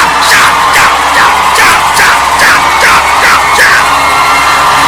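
A church congregation shouts for joy during a worship service, a loud, dense crowd roar with repeated rising whoops and yells every half second or so, sustained throughout.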